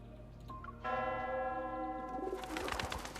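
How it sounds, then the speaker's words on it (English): In the video game Love and Deepspace, a church bell rings out with a sustained, resonant tone, then startled doves burst into flight with a flurry of flapping wings as the bell's tone fades. "The bell startles the doves and they fly into the air."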